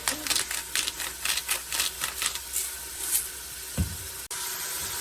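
Steady crackling sizzle of vegetables frying in a pan for vegetable soup, close and fairly quiet, with a few scrapes and a sharp clink near the end.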